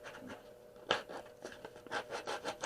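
A piece of wood held in a man's lap is rubbed down by hand, producing a series of short, dry scraping strokes in an irregular rhythm, close and fairly quiet, with no voices.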